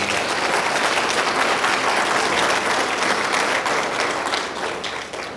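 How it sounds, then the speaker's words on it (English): A large forum audience applauds their city and police department in a dense, steady round of clapping that fills the room, holding loud and even before tapering slightly at the end. "How about giving yourselves and your police department a round of applause?"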